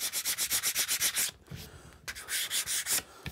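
Rough sandpaper rubs by hand over a wooden joiner's mallet in fast, rhythmic back-and-forth strokes, close and clear, broken by a brief pause before the strokes resume.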